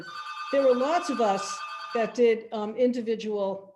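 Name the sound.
telephone ringing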